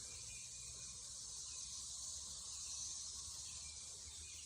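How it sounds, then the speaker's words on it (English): A Middle Tennessee cicada brood buzzes as a steady, high, shimmering drone that fills the background evenly and faintly throughout, with no talk. "Those are cicadas."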